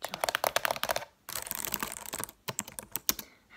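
Fast, close typing and tapping on a computer keyboard in an ASMR setting, with dense runs of crisp key clicks, a brief pause, then scattered sharper taps, alone without talk.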